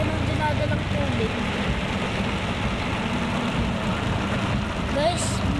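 Heavy storm rain pours down in a dense, steady roar with a low rumble beneath it, loud and unbroken throughout.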